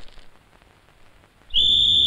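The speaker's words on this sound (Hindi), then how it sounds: "मेरे बाप ने सीटी बजा दी है" A shrill, sustained whistle blast starts suddenly after a quiet stretch and holds steady and loud to the end, with faint background noise before it.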